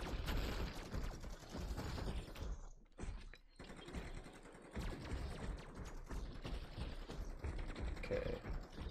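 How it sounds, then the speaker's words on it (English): Rapid bursts of automatic fire from a sentry gun in MW3 Zombies, dense mechanical rattling and thuds filling the scene with a brief lull midway, no talking. "Sentry gun's really helping us out, just clear some of these bosses and stuff."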